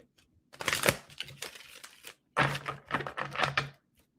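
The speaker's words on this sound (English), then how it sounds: "All right, 2 more shuffles for Leo." Tarot cards being shuffled for a reading, in two bursts of riffling, flapping card noise, the second ending in several quick snaps, close and fairly quiet with no talk.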